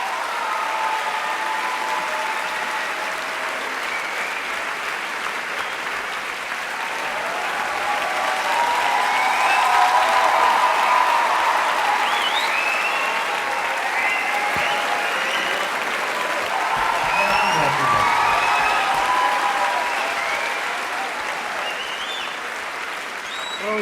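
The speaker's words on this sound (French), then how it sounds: "je vous demande de l'applaudir très très fort" Audience applauding warmly for Ron Gissing, a sustained crowd clapping that swells in the middle and carries on strongly, with some cheering voices mixed in.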